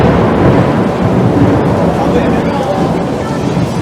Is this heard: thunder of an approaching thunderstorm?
yes